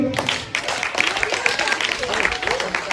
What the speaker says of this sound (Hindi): रियांश के लिए ताली बजाओ भाई।